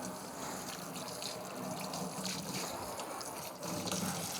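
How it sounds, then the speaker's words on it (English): Water sprays steadily from a tap, rinsing the fittings and connectors of a Miele built-in coffee maker in a sink, a close continuous hiss and splash with no talk. "So now we'll just spray that all off."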